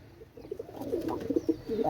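Low, throaty cooing from Pakistani KTM Teddy pigeons rises and falls in short repeated phrases, fairly close and moderately loud.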